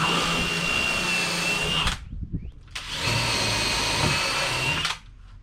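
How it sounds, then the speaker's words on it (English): A power drill bores holes into the structural framing of a porch ceiling under vinyl. It runs in two long, steady, loud whirring stretches with a brief pause between them. "So now that the holes have been drilled into the structure"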